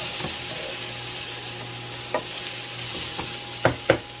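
Sausage and peppers frying in a pan, a steady low sizzle with a faint hiss throughout and a few sharp pops and stirring clatters toward the end, close and without voices.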